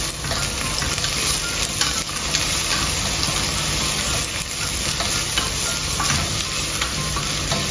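Ginger sizzles and fries in a hot pan with steady crackling and occasional stirring scrapes, loud and close without any talk.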